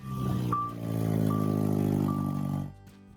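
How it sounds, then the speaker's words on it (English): A car that sounds like an old truck idles with a deep, rough, rumbling engine note, steady for a couple of seconds with faint whining tones above, then cutting off abruptly near the end. "car sounds like an old truck"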